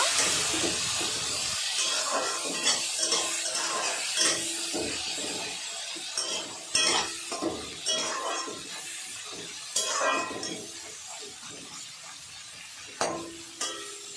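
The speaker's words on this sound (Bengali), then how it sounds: "কেটে রাখা পেঁয়াজ পেঁয়াজটা আমি ভেজে নেব" Chopped onions frying in a pan, a steady close sizzle and hiss with occasional clinks and stirring scrapes of a utensil scattered throughout.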